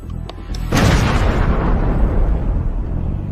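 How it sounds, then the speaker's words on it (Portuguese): An artillery shell explodes in old war footage with one heavy, close boom that rolls into a long, deep rumble and scattered debris noise, following a few faint thuds. "Termine o trabalho com um ataque da artilharia."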